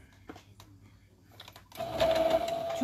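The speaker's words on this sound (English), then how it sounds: "and then we are going to sew the bottom." Sewing machine stitching the bottom seam of a fabric car caddy: a few quiet handling taps, then the motor starts and runs in a steady, fairly close whirring burst to the end.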